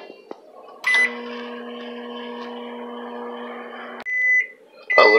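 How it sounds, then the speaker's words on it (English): A microwave oven hums steadily while warming a tortilla, opened by a loud click and beep at the start and broken off by a door clunk and further beeps near the end. "you take the tortilla, put it in the microwave."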